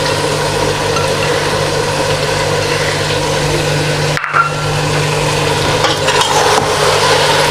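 Mutton fries in a pan with green chillies, ginger and fresh coriander, giving off a loud, steady sizzle with a brief break and occasional scraping stirs.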